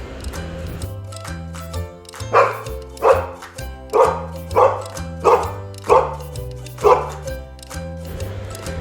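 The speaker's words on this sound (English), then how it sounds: "D-O-G, dog." A dog barks about eight times in a steady, evenly spaced series, each bark loud and close, set against a background of instrumental music.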